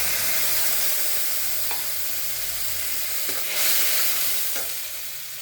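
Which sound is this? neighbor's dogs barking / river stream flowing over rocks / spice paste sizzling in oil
spice paste sizzling in oil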